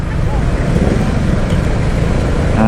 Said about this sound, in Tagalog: Oh, ang traffic